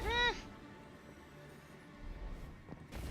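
A person imitates a cat with a brief, harmonic meow-like vocal near the start, followed by quiet room tone and faint sounds.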